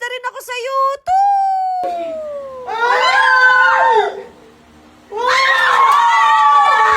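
Loud shouting outside a house at night comes in long, wailing, strained cries in two bursts, with a quieter gap between them.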